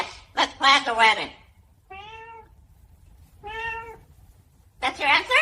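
A parrot imitates a cat's meow in two drawn-out, tonal calls between bursts of a person talking, all close and clear.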